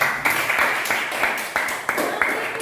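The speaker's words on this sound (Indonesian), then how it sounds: "Tepuk tangan dulu untuk Pariyama" Classmates clap for a student during a maths lesson, with a series of even, rhythmic claps over a steady hum of the room.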